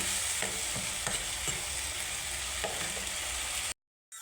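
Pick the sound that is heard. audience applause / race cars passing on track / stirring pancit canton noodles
stirring pancit canton noodles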